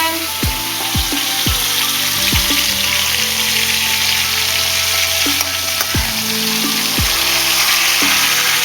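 Liver and onions frying in a pan on medium heat, a loud constant sizzle broken by a few spatula scrapes and clinks.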